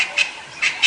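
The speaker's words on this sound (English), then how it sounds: "Greater blue-eared glossy starlings." Greater blue-eared glossy starlings give three short, harsh squawking calls on a dawn safari drive, moderately close and separated by brief gaps.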